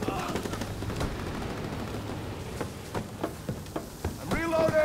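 Rapid automatic gunfire from a Call of Duty WW2 multiplayer match crackles in dense bursts, with shouted voices and other game noise mixed in.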